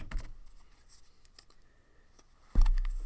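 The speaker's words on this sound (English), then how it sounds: "we'll shuffle everybody up" Game cards from a board game with The Gorilla Expansion are shuffled: a brief riffle at the start, a quiet pause, then a louder, fuller shuffle burst near the end.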